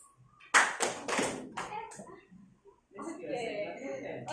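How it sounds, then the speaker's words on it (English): A class of children claps their hands in a few sharp, scattered bursts, followed by lively children's chatter and voices close by. "clap your hands"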